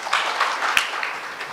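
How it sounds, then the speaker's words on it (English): Brief applause from an audience at a conference gathering, light scattered clapping with a few sharper claps standing out, short and moderately close. "I think she deserves a round of applause for that."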